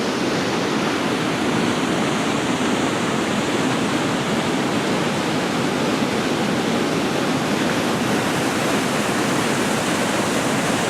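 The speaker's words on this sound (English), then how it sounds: "I'm right on top of the falls on that outcrop of rock." Waterfall heard from a rock outcrop right on top of the falls at Wren Falls, a loud, steady, broadband rush of water that stays constant without a break.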